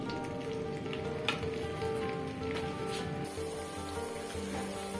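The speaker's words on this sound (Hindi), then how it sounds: "ऑयल को हम लोग थोड़ा सा गर्म कर लेंगे और उसके बाद हम इसमें प्याज ऐड कर देंगे।" Three large onions frying in heated oil in a pan while preparing ojri, giving a steady, fairly quiet sizzle and crackle throughout with no talking.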